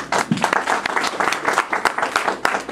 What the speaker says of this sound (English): Put your hands together for Barry Kissin.